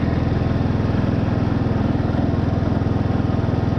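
A Husqvarna lawn tractor engine runs steadily at idle, a loud, continuous low rumble with a regular fast beat, close by and alone with no talking.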